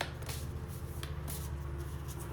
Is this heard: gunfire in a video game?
no